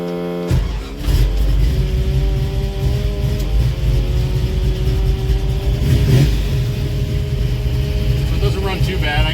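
An old car engine fitted with a Demon carburetor idles steadily and loudly after starting, a continuous rough hum with a small rise in revs partway through.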